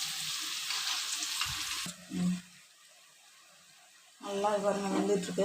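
Wheat and maida chips fry in hot oil with a steady sizzle that drops away briefly midway, then returns. A person talks over most of it.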